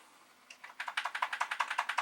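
Keys clatter on a Commodore VIC-20 keyboard: a quick, even run of sharp, close clicks that begins sparse and settles into a steady rhythm.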